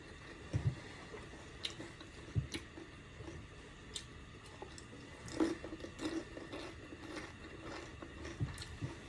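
Close chewing of crunchy fried meat, a few sharp crunches and soft crackles spread irregularly across a quiet room.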